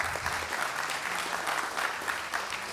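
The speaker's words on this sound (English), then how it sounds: "go ahead and clap for that" Audience applause at a Sukkot scripture reading and midrash session, a steady wash of clapping from a room of people that keeps going without pause and without voices on top.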